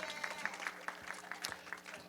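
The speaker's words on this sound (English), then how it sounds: "Yes, you can clap for Saleho." Scattered applause from an event audience at a book festival authors' panel, light and uneven claps continuing for a couple of seconds at moderate distance.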